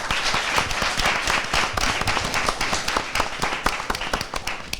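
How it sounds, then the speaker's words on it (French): Audience applause on a French television quiz game show, honoring the players of team A: dense, sustained clapping from a studio crowd, loud and steady throughout with no talk over it. "Merci de les applaudir très fort."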